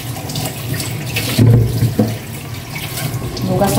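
Pork is rinsed under a running kitchen tap, a steady close splash of water with brief heavier gushes as the meat is moved under the stream and handled.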